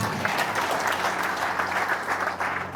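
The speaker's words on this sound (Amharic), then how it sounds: "ለጌታ ክብር አጨብጭቡ።" A church congregation applauding, steady dense clapping from many hands throughout.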